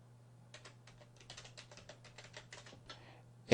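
Rapid, uneven keystrokes on a computer keyboard as an email address is typed, a close, dry clatter over a steady low hum, ending in a sharp louder knock.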